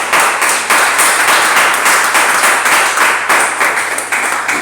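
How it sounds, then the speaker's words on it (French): Church congregation applauding and cheering in praise of the Lord, a loud, steady wash of hand claps with rhythmic surges filling the room, no speech over it. "On acclame le Seigneur."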